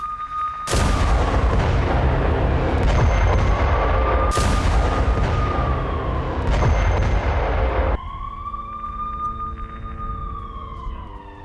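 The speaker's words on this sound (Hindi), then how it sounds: "रूस की चलती टैंक को कैसे निशाना बनाया गया देखिए, क्योंकि यूक्रेनी हमले में रूसी टैंक तबाह हो गया।" A Ukrainian attack strikes a moving Russian tank with several heavy, booming blasts that roll on loudly, mixed with whistling, siren-like tones.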